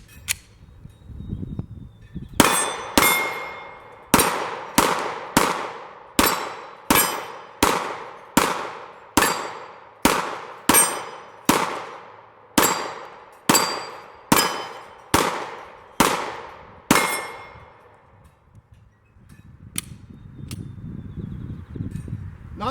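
A Glock 19X pistol fires about fifteen evenly spaced shots, each followed by the ringing clang of a hit on a steel target plate, all close and loud, with brief quiet before and after the string.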